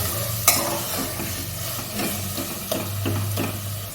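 Ground spices fried with a splash of spice-paste water for a mutton-fat ghugni, sizzling and hissing up close while a spatula scrapes and stirs the pan in irregular strokes.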